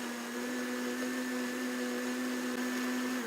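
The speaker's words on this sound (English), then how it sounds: "So then I blend it all together." A kitchen blender whirs steadily while blending an avocado hair mask, a close, constant motor drone that holds its pitch for a few seconds with no talking.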